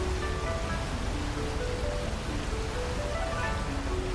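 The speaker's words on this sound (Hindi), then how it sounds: "वहां जाकर झरने के नीचे खड़ी हो जाती है" Water from a waterfall pouring down in a steady, dense rush of hiss and splash, continuous throughout with faint tonal notes of background music underneath.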